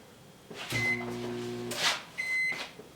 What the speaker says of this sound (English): Microwave goes off.